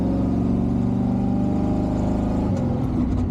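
A Chevrolet K10 pickup engine held at full throttle, a loud, steady droning roar that stays constant before a brief change near the end, with no talk over it.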